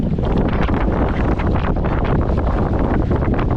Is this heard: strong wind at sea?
yes